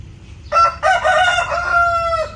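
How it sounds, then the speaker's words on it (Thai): A rooster crows in the morning beside a home kitchen garden, one loud, close cock-a-doodle-doo lasting about two seconds over a low background rumble. "โอ้เสียงไก่ ขันตอนเช้า"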